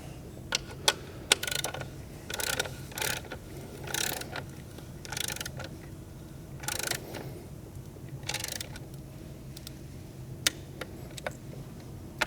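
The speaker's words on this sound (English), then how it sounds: "Okay, we're gonna start torquing them down." Torque wrench ratchets in short repeated bursts of clicks while the valve cover bolts are tightened in a crisscross pattern on a BMW N54 engine; close, distinct clicking with brief pauses between bolts, no talking.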